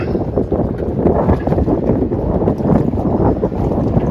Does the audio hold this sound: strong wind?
yes